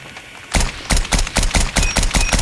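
A semi-automatic gun fires in the mobile shooter game COD Mobile, about nine sharp close shots in a quick, slightly uneven rhythm with no speech over them.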